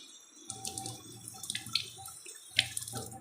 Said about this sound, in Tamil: இப்போ தண்ணி ஊற்றி உப்பு போட்டு வேக வச்சுப்போம்